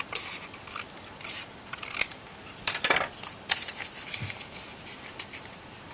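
Scissors trim a sheet of paper for a tri-fold shabby chic paper folder, giving a handful of crisp, close snips and rustles spread across the clip with no talking.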